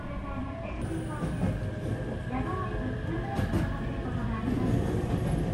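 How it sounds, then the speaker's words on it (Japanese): A local one-man commuter train on JR Kyushu creeping slowly over a series of points after departure, a steady rumble of wheels and car body with faint clanks, heard from inside the carriage. "ポイントをいくつか通過するため、低速でそろそろと走ります"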